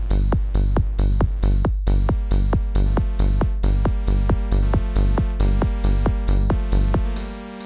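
A synthesizer plays a steady, repeating pattern of punchy, bright notes in an even rhythm, loud and close, ending with a brief sustained tone.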